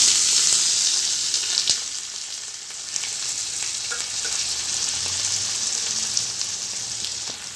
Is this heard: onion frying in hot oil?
yes